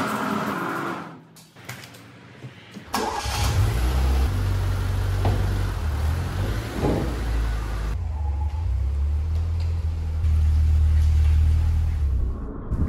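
FIAT Uno Turbo i.e. engine cranks briefly and catches, then settles into a steady, close idle rumble with a slight rise in revs partway through, heard alone without any talk.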